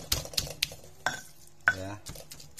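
Fried chicken for ayam geprek is smashed in a kitchen, giving several sharp knocking thuds of a pestle or utensil against a dish in an irregular rhythm, fairly close and clear.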